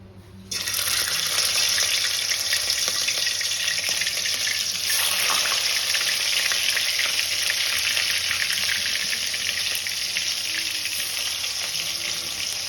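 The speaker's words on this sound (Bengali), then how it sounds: "আমরা এখন চিংড়ি মাছটা ভেজে নেব।" Turmeric- and salt-marinated prawns frying in a pan for chingri malaikari, a loud continuous hissing sizzle that starts abruptly and holds steady throughout, with no talking.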